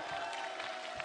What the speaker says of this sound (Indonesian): Tepuk tangan untuk Dimsey.